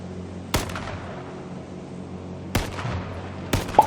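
Gunshots in the battle royale game H1Z1, three sharp loud cracks spaced about a second or two apart, each trailing into a brief echo over quiet ambience.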